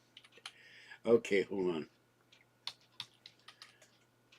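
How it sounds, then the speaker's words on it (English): Typing on a computer keyboard that isn't working properly: scattered light key clicks in short bursts, with a voice speaking briefly in the middle. "My keyboard doesn't work right."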